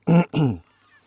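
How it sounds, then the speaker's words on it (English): Seagulls calling outdoors during a Range Rover spotlight installation: two loud, close, drawn-out squawks in quick succession, then quiet. "Seagulls are out in force today."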